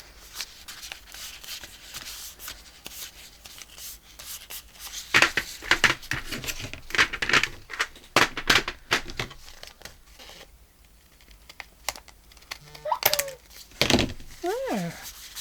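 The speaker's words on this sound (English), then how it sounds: "I'll have to cut some of that off the end there" Paper being cut and handled while making a flip fold journal, with close crinkling, rustling and snipping in uneven bursts, a quieter stretch midway, and a voice speaking briefly near the end.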